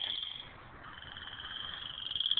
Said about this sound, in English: enjoying listening to the frogs